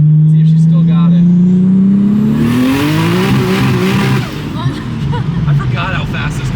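A Toyota JZX100 Chaser making 750 whp accelerates hard up through the revs with a loud, rising engine howl, then drops into a rough, roaring pull. Voices talk over the engine.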